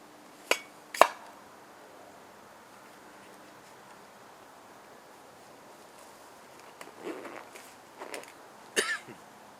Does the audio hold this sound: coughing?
yes